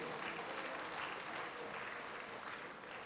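Steady applause from an audience at an official language awards ceremony, dense clapping filling the whole stretch at a moderate, distant-sounding level with no break.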